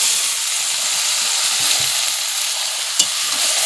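Washed chicken pieces frying in cooked-down spice masala with a little sugar, stirred in the pan; a loud, continuous close sizzle fills the sound, with one sharp scrape of the spoon near the end.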